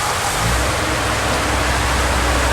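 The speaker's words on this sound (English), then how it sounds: "The part about our rain here in Hollywood is we can turn it on and we can turn it off on cue." Artificial rain effect pouring on the Universal Studios Hollywood backlot, a loud dense steady hiss of falling water with a low rumble underneath, continuous throughout.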